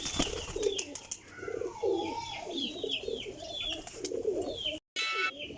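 Teddy pigeons coo steadily in repeated soft, throaty rolls, close and continuous, with a few brief chirps overhead and a short gap near the end.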